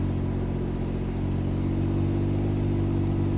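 A 2020 Can-Am Ryker 900 ACE three-wheeler engine held at a steady, loud, close drone with a strong low harmonic hum, rising slightly toward the end.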